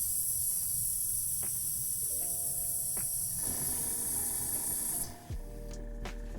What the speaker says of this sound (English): Let me get this airbrush cleaned out